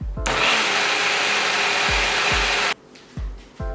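A blender whirs loudly and steadily for about two and a half seconds as it churns raw cheesecake cream, then cuts off abruptly. A few soft low thumps follow.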